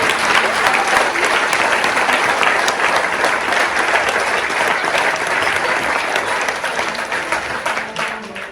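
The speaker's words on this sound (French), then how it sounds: "je vous demande de l'applaudir aussi grandement" Sustained audience applause at a gathering for the Ultra Marin race, dense and loud, continuous clapping that fades slightly toward the end.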